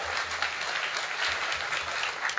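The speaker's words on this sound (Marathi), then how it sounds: "अरे एकदा भजनी मंडळी करता वाजवणाऱ्या करता टाळी वाजवा." An audience at a kirtan claps for the bhajan singers and musicians, a dense, steady burst of applause filling the whole moment with no talk over it.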